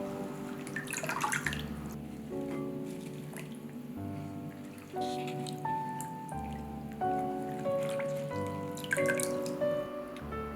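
Basil and parsley being rinsed under a running tap, a steady splash of water with shifting drips and rustling leaves, close and continuous with no talking.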